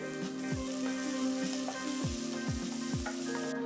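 Gentle sizzling of chopped onion, garlic cloves and dried red chillies frying in oil in a pan for masala dosa filling, a soft crackling hiss with occasional clinks and stirring scrapes, no one speaking.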